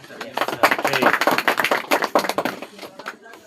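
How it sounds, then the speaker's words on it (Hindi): Schoolchildren in a classroom clap together, a loud, uneven burst of many hands that rises and fades over a few seconds. "उसके लिए ओरिजिनल ताली बजाओ।"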